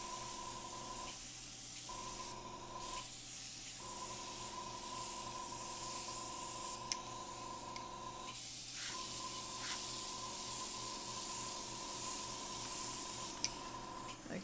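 Continuous hissing airbrush spray with an air compressor humming steadily underneath, interrupted by a few brief pauses in the spray; airbrushing onto Pastelmat paper.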